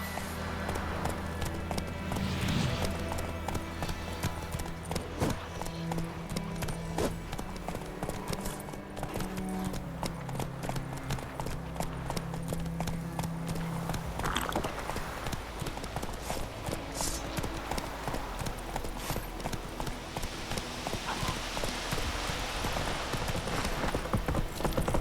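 Roach the horse galloping in the video game The Witcher, a dense rapid clip-clop of hooves running steadily throughout over a low game ambience and music.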